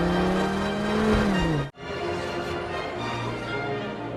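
Race cars in the animated film Cars 3 roar past with rising and falling engine whines, followed by a sudden drop in sound and then a steady lower engine drone as the race gets underway, with no speech.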